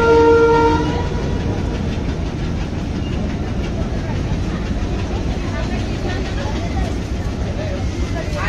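Inside a moving Khulna–Mongla commuter train, with a loud horn blast sounding over the first second, then a steady roar of wheels and carriage rumble that continues throughout.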